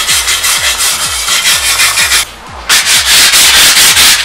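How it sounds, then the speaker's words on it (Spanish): 80-grit sandpaper rubs in steady back-and-forth strokes on a Mazda muffler in a muffler shop, loud and close, with a rhythmic rasping scrape and one brief pause. "Ahora le estamos dando lija 80."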